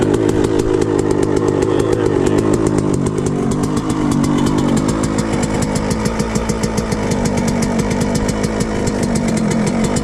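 A rebuilt Suzuki RM 125 two-stroke dirt bike engine runs loud and close, a continuous buzzy rattling drone with a rapid pulsing beat and slight wavering revs throughout.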